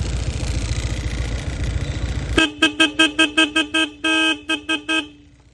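A Seger horn fitted to a Honda PCX160 scooter blasts a rapid series of loud, close, multi-tone toots, including one longer held note, after a steady idling engine drone.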